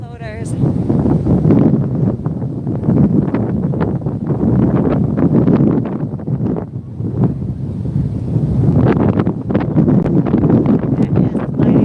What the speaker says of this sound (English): That wind is going to be fierce today with these floaters.